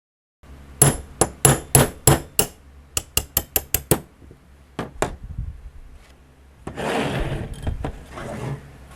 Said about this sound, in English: You pound that out. It'll come out the top here